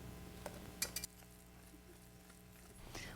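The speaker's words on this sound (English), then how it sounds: "we'll add all the flour and stir vigorously" A wooden spoon or spatula stirs flour into boiling butter for choux pastry dough, giving a few quiet scrapes and light clinks near the start, then a soft, low background.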